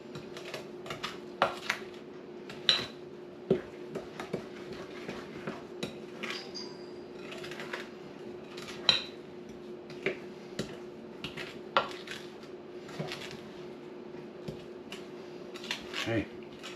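Metal square cake pans clatter and knock together while being rummaged through in a home kitchen, a string of sharp, scattered clicks and taps over a steady background hum, with occasional talk.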